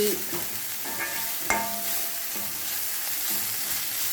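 A banana flower stir-fry with coconut is sautéed in a pan. A steady sizzle of frying runs under a few distinct spatula scrapes and taps, with no one speaking.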